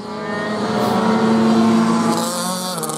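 A race car laps a circuit during qualifying at a club event in Geelong, its engine a loud, sustained tonal roar that swells and holds close by.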